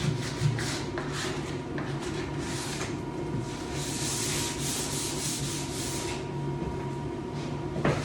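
Light hand sanding with little pressure on an old wooden door in an 1884 house, a continuous scratchy rubbing with steady back-and-forth strokes, close and moderately loud, no voices.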